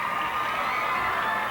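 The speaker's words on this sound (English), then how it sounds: "Oh, this crowd over on this side is just going wild. They're up on their feet in anticipation." Football crowd at a 1984 high school game cheers on its feet, a continuous roar of many voices, with shouts mixed in, holding steady throughout.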